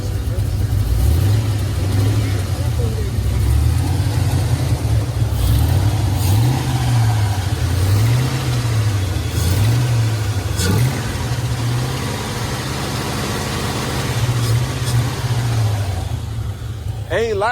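A boxy Chevy car with a freshly installed cam revs repeatedly, its engine note rising and falling in a rhythmic series of pulls, loud and close, with some voices around it.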